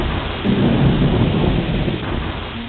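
Steady rain and rumbling thunder from a cartoon storm that floods the land and sweeps away calves, a continuous dense roar with low booms swelling and fading throughout, loud and close with no voices.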